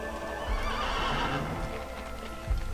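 A horse in the Assassin's Creed video game lets out a long, loud whinny lasting over a second, framed by a few heavy hoof thuds near the start and end, with no talk.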